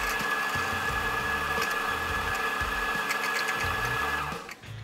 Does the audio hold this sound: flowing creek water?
no